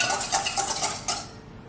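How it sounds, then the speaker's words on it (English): A whisk beating a soy sauce and chili crisp dressing in a bowl, clicking in a quick run of about six close, bright strokes against the sides that fade out toward the end. "We go ahead and give that a quick whisk."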